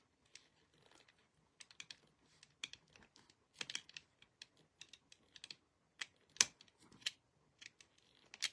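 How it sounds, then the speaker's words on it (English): Scissors snipping through decoupage texture material while decorating a Dollar Tree candle, a series of quiet, irregular crisp cuts spaced across the clip, with no talking. "And I just need to cut here."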